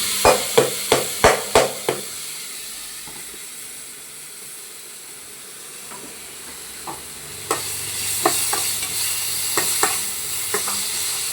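Potatoes with dried red chillies and spices stirred in a burnt kadai, opening with a rapid series of sharp metal scrapes, then a quieter stretch before steady frying sizzle and more spatula scraping return.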